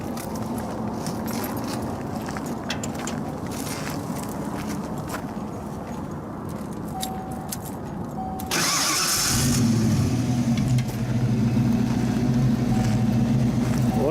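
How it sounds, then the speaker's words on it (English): Car at an outdoor car show in Yuma, Arizona, fitted with Flowmaster exhaust and a high-torque starter: background crowd noise, then the engine cranks and fires, settling into a loud, throaty idle with a rev close by. "It's got Flowmaster exhaust on it."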